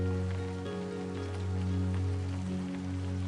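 Steady rain falling on a tent at night, a dense continuous patter of drops close by on the fabric, with no voices.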